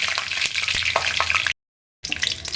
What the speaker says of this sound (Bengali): ফোড়নটা কয়েক সেকেন্ড ভাজা ভাজা হোক